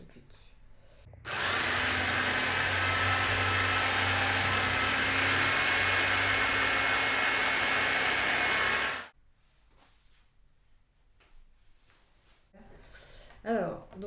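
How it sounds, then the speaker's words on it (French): An electric knife cutting through carded wool buzzes loudly and steadily for several seconds, then stops abruptly, followed by quiet handling noises and faint speech. "on peut le découper soit avec un couteau électrique"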